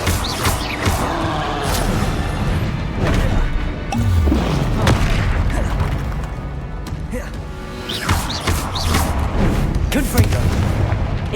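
Confringo blasting spell in Hogwarts Legacy, fired in a rapid chain alongside other spells, giving repeated heavy booms and sharp crashes over a constant rumbling background, with a voice calling out spell names.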